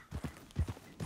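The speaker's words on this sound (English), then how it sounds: "This horse is holding so much weight, I think." Horse hooves clip-clopping in Red Dead Redemption 2, a few soft, evenly spaced steps close by on a horse that is carrying a heavy load, with no talk over them.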